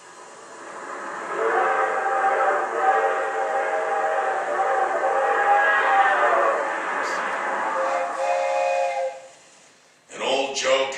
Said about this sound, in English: that long, drawn-out whistle of the 20th Century Limited as she highballs it through the countryside